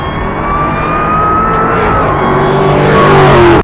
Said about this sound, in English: moves air through an actual speaker system, a box with chambers, plenums, pipes, and an exhaust outlet that comes out the back of the car